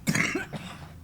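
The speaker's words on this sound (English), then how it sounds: "I had to clear my throat." A person clears their throat once up close, a short rough rasp that fades into quiet.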